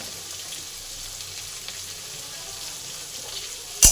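Potatoes and gourd stalks frying in a pan with salt and turmeric give off a steady, soft sizzle that runs evenly throughout, with one sharp clatter right at the end.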